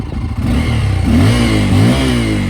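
A Bajaj Pulsar N250 single-cylinder motorcycle engine is blipped from idle, rising in two quick revs and falling back, close and loud with no talk.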